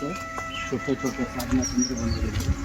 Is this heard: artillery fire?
no